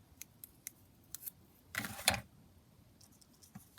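Scissors snip around a paper collage piece, a quick flurry of close, crisp cuts after a few light ticks and taps, in a quiet room.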